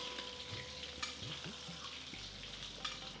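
Mustard seeds, chana dal and urad dal fry in hot oil as a tempering for vangi bath, giving a steady close sizzle dotted with small crackles and pops, with no voices.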